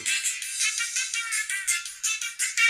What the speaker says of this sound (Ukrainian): Включили музичку.